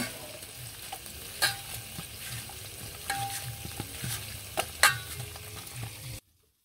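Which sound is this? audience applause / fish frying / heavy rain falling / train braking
fish frying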